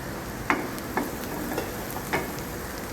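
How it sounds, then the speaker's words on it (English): Garlic and celery sauté in a hot pan with a soft, steady sizzle, broken by a few light clicks of stirring, close and fairly quiet. "okay, we'll saute it"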